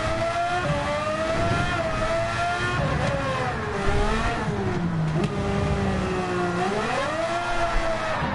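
A Super Formula race car in Gran Turismo 7 drives around Spa, its high engine whine rising and falling steadily through the gears, loud and close throughout.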